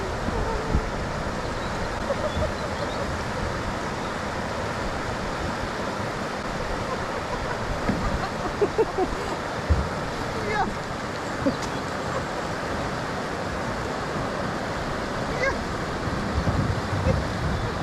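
River water rushes over small waterfalls on a mountain river during a kayak trip, a constant close wash of turbulent flow with faint splashes and occasional knocks against it.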